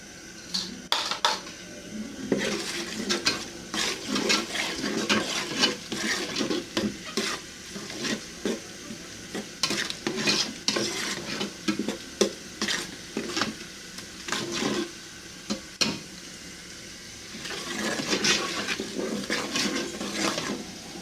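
Onions sizzle and fry with seasoning in a pot for a vegetable stew while a utensil stirs and scrapes against the metal in irregular bursts, steady frying hiss throughout.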